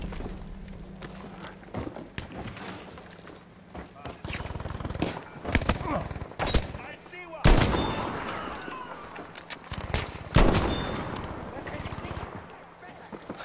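Gunfire in an online shooter video game with a Krag-Jørgensen rifle: repeated sharp bursts of shots and scattered single cracks, some close and loud, with voices talking between them.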